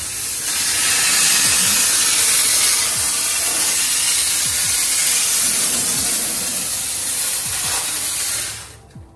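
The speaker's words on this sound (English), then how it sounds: "we have the chemically free steam cleaning car washes" A loud, continuous hiss of pressurized steam from a steam cleaner spraying a car close by for several seconds, with faint knocks underneath, cutting off abruptly at the end.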